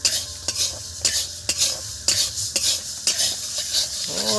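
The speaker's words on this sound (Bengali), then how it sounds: "এবার এটাকে নেড়ে চেড়ে নেবো দেখুন" A metal spatula scrapes and clangs against a black wok while fried rice is stirred, with about nine sharp, evenly spaced strokes over a soft sizzle.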